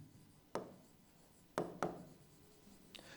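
A teacher writes a word on a board in a classroom, producing three sharp, close taps of the marker or chalk, then a fainter scratch at the end, against a quiet background.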